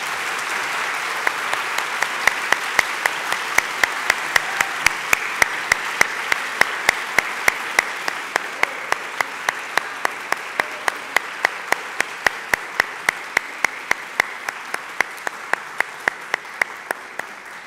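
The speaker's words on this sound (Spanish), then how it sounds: "Para todas ellas quiero pedirles un gran aplauso el día de hoy." Auditorium audience applauding teachers at an early-education event, sustained dense clapping with one sharp, regular clap close up standing out over the crowd for the full stretch.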